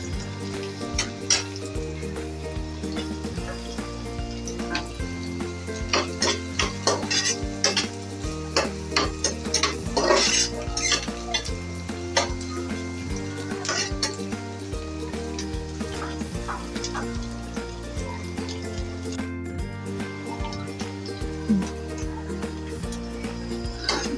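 Onions and green chillies stir-fried briefly in a pan for vegetable noodles give a continuous sizzle with frequent quick spatula scrapes, set against a steady musical tone bed for the whole stretch.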